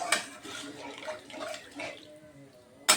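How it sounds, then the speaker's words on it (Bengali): Water splashes and gurgles as it is poured in uneven bursts into a pan of cauliflower dhokla preparation, close by, ending with a short sharp knock. "এখন আমি জল দিয়ে দিতে পারবো। জলটা আর একটু দেব"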